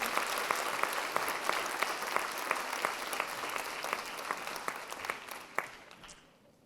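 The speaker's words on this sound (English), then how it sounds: "Round of applause, please" Audience applause at a summer festival queen pageant, a dense wash of clapping with distinct individual claps that holds steady, then fades out over the last second or so.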